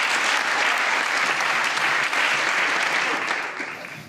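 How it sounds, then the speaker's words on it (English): A stage audience breaks into loud, dense applause that holds steady and then begins to taper off near the end. "Can we have a huge round of applause for him?"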